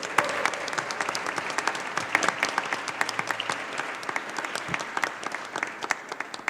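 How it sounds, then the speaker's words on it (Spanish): An audience applauds a named participant at a presentation of Mexico's Democratic Development Index, a lively burst of many hands with distinct individual claps, fairly close and continuous for several seconds. "Un aplauso,"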